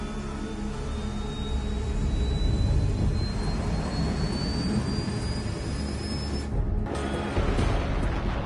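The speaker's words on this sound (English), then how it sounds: "All this plane could do was take off, accelerate, and fly up." A jet plane takes off and accelerates in the air-combat video game Ace Combat 7. Its engine roars in a steady, loud, broadband rush, with a thin whine that climbs slowly. No one speaks.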